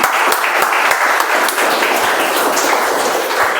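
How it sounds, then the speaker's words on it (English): Brisk applause from a Toastmasters meeting audience welcoming a speech evaluator, dense and even across the whole stretch with individual claps standing out near the microphone. "Let's welcome, with a round of applause, our speech evaluator number 2"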